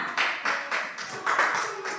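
Classroom audience clapping for a student named Yuna, a short burst of rapid, fairly faint applause from a small group, evenly pulsing for about two seconds.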